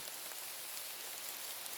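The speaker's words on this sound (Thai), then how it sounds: "ตอนนี้ฝนตกอยู่ฝนตก" Steady rain falls through a forest, a dense, even hiss of drops on leaves and ground that continues unbroken with no voices.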